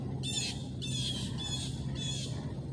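Blue jays squawk harshly at a hawk outdoors, four loud bursts of raspy calls repeating roughly every half second over a steady low background hum.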